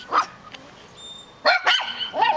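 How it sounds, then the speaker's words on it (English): Small dogs bark in short yappy bursts near a lilac bush, several sharp barks close by, with brief pauses between them. "These guys bark at anything."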